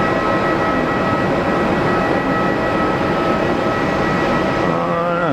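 Airbus A320neo-family airliner at Geneva Airport, a loud, steady jet engine roar that holds constant throughout, with a faint rising whine near the end and no voices.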